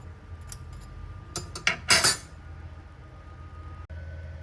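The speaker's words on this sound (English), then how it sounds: "Using tongs, I remove the ribeye from the air fryer." Metal tongs clink and scrape against an air fryer basket as a ribeye steak is lifted out, a few sharp metallic taps and rattles followed by a louder clatter, then quiet kitchen background.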